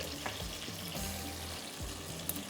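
Onions browning in a pan sizzle softly and steadily, with a few low clunks from stirring or handling partway through and no speech.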